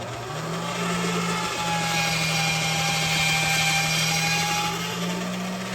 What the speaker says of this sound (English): I'm going to feed it through the machine again